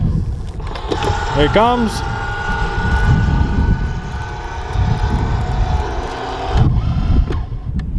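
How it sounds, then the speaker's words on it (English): A Minn Kota Ultrex trolling motor stows itself on an Alumacraft Competitor 185 tiller boat with a mechanical whirring hum that runs for several seconds and then cuts off, under outdoor rumble while someone speaks briefly. "hit a button here, hit stow, and the entire trolling motor comes up by itself"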